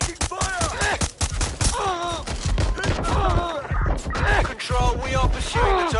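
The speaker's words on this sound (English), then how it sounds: "Taking fire!" Gunfire in Watch Dogs during a chase, repeated sharp shots crackling close and loud amid sirens and other chaotic noise, with voices shouting over it.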